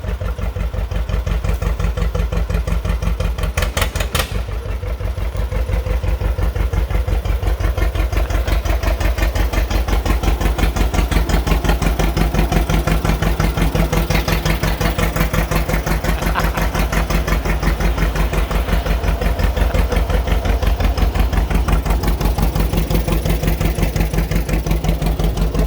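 A John Deere two-cylinder tractor engine fires up and settles into a steady, loud idle with an even, thumping low pulse that runs unbroken for the whole stretch.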